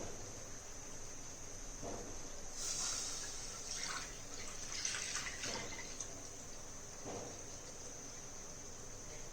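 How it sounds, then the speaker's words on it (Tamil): Half a litre of milk is poured into a pan while making bread halwa, giving a soft liquid trickle and splash that swells for a few seconds in the middle before fading. "அதில் நம்ம 1/2 லிட்டர் பால் சேர்த்துக்கலாம்."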